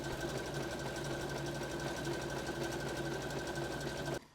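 A sewing machine overcasts the raw edge of a fabric seam on a kimono wrap dress, running at a steady fast whirring and clattering pace close by, then stopping abruptly at the end; no one speaks.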